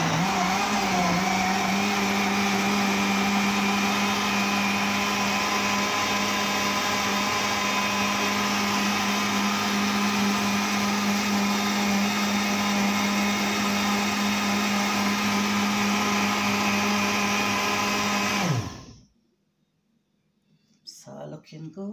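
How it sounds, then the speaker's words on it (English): An electric blender whirs steadily at high speed for about eighteen seconds while blending a Weetabix breakfast drink, then switches off and the motor spins down abruptly into near silence. "I'm just going to switch on my blender and let's get blending."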